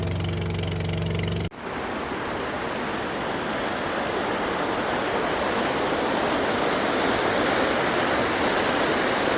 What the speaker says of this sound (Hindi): ये कटोरा आबशार है